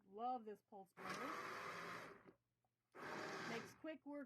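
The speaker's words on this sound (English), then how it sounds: "I used a stick blender to puree my strawberries" A stick blender purees strawberries in two loud whirring bursts of about a second each, separated by a pause, with brief speech or breathy vocal sounds before and after.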